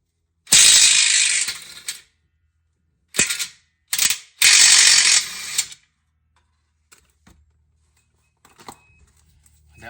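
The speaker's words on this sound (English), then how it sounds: "That bolt went flying." Loud bursts of ratchet and wrench mechanism noise during lower control arm removal on a 2013 Nissan Pathfinder, then a few faint, scattered clinks as a loosened bolt flies off and lands nearby.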